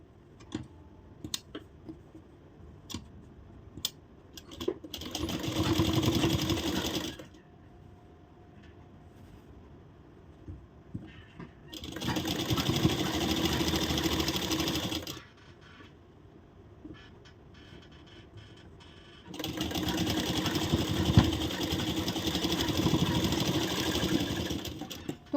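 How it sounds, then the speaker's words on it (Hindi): A sewing machine stitches a blouse. Its steady, close whirring comes in three separate bursts of a few seconds each, with quiet pauses and a few light clicks between them. "अब उस निशान पे हम इस पर सिलाई लगाएंगे"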